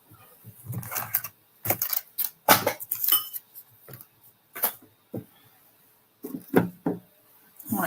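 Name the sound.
scissors cutting fabric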